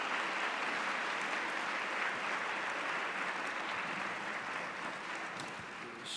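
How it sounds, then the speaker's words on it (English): Steady, fairly soft applause from guests at a mothers of alumni luncheon, an even wash of clapping that holds for several seconds without a break. "one more round of applause for these guys"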